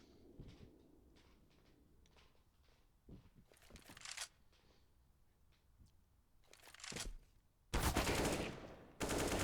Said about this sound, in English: Bexy clearing out the angles with the Deagle